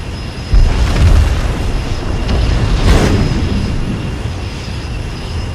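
Aircraft diving in to attack in Mechwarrior Living Legends, a loud sustained roar with rumbling booms and a swelling whoosh near the middle, heard alone.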